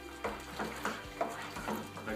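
A spoon stirring powdered sugar into beer wort in a bucket while it fills, soft rhythmic swishing strokes about every half second over running liquid, quiet and close.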